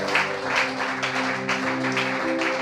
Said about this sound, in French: Acclamons la parole de Dieu, bien-aimé.